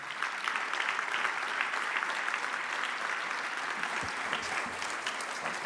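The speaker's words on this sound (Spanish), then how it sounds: "Con un aplauso," Audience at a gala for the annual members' meeting of Compromiso Asturias bursts into sustained applause, a dense, steady wash of many hands clapping that fills the whole stretch without any speech.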